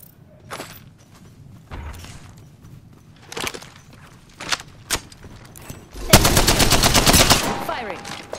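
Gunfire in the battle royale game Apex Legends: scattered single shots and short bursts, then a loud sustained automatic volley near the end, with footsteps and clatter between them.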